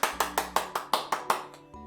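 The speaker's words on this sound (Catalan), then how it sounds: "Un fort aplaudiment! Més fort, xics!" Clapping for Santa's helper at a library Christmas event: eight crisp, evenly spaced claps in a steady rhythm, each ringing briefly, then fading out.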